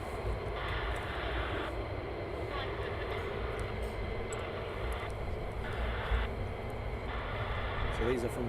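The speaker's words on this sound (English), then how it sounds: "So these are from the 492nd Fighter Squadron." A 492nd Fighter Squadron fighter jet at RAF Lakenheath sends out a continuous engine whine and rumble at a steady level, with a voice talking over the top.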